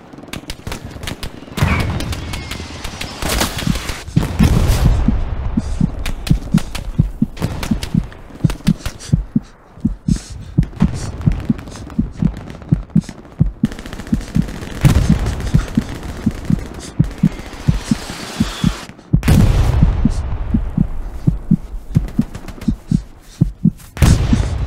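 Gunfire from bolt action rifles and other weapons in a Stalingrad battle of the video game Hell Let Loose, with sharp repeated shots and distant explosions sounding in bursts over a constant rumbling battlefield backdrop.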